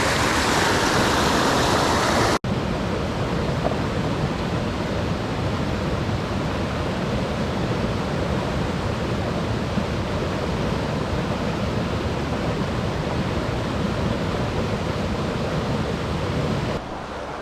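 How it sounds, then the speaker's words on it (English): The Lehigh River flowing just above its confluence with Buck Mountain Creek, a constant broadband rush of moving water heard from a distance, steady and unbroken, with a brief louder burst at the very start. "And there's the Lehigh River there in the distance."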